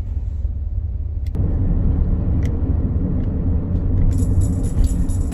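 A car cruising on an expressway, heard from inside as a steady, loud low rumble of engine and road noise, continuous throughout, with a brief faint tick partway through.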